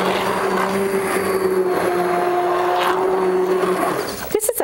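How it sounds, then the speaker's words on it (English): A small immersion blender purees pumpkin corn chowder with milk in a pot, giving a steady loud motor whine that runs for about four seconds, then cuts off into a few clunks. "I love my little immersion blender."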